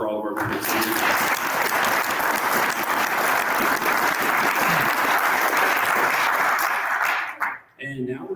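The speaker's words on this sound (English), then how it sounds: "So give them a quick round of applause for all of our vendors." Loud, sustained applause from a crowd at a state esports tournament, filling the space for about seven seconds before cutting off abruptly, with cheering mixed in.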